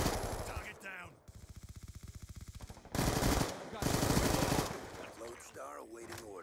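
Rapid automatic gunfire in a Call of Duty match, long rattling bursts broken by brief pauses, with heavier blasts and a player's voice talking over parts of it.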